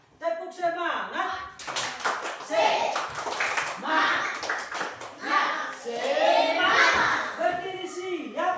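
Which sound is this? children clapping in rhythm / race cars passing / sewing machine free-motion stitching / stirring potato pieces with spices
children clapping in rhythm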